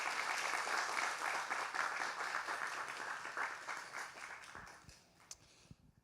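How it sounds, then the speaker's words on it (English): A crowd at an international student recognition ceremony applauds steadily with dense, even clapping that thins and dies away over the last second or so. "let's give them a big round of applause for getting here."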